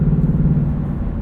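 A 2020 Ford Mustang GT convertible with Performance Pack and six-speed manual cruising on the highway in sixth gear around 2,000 RPM: a steady, deep engine drone with road rumble, close and even throughout.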